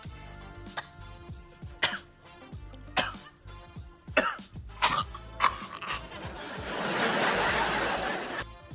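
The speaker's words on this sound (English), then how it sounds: "Cough." Several sharp coughs and throat-clearing bursts come in an irregular series, followed by a rising hissy rush of noise near the end.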